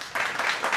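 A crowd applauds in the background during a live show, a short wash of clapping that swells in uneven bursts.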